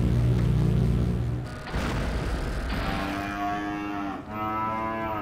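Cattle in Demolition, Inc give a long lowing moo and a second one straight after, fairly close and clear. They are preceded by a low rumbling drone and a brief crash-like burst.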